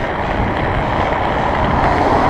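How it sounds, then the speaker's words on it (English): A north wind blows outdoors in Thunder Bay during a fat-bike ride, a loud, continuous rushing roar buffeting the microphone with no letup and no talk. "We got a north wind"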